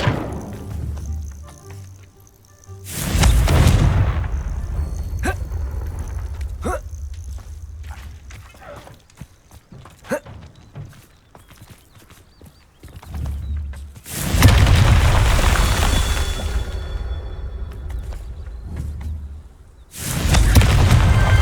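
Confringo spell blasts in Hogwarts Legacy, a few loud booming explosions spaced apart with quieter footsteps and rustling between them.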